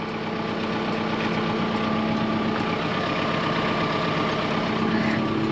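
A tractor engine idles on a farm with a steady, close, droning rumble and vibration that holds even and unbroken throughout.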